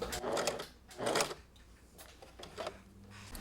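A sewing machine makes short bursts of stitching at close range while securing stitches on a bolero sleeve, two louder runs followed by fainter, lighter ones.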